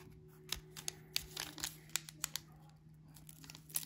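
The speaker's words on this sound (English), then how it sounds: "let's get to opening our cards, and we'll start with our football packs" Foil-like wrappers from 1987 Topps football card packs crinkle and tear open up close, in a run of sharp crackling bursts over a quiet steady hum, with no talking.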